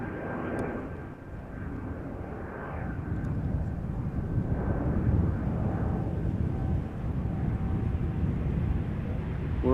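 A Norwegian airliner climbs overhead just after takeoff from runway 06 at Amsterdam Schiphol, a steady broadband jet roar that holds loud and continuous, swelling slightly toward the end with some wind buffeting on the microphone.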